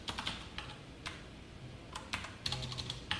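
Code being typed on a computer keyboard: scattered quiet key clicks in short irregular bursts, with a quicker cluster of taps toward the end.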